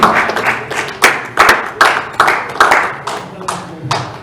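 A church congregation claps in praise of the Lord, a steady run of sharp, loud clap bursts roughly every half second, with voices mixed in among the hands.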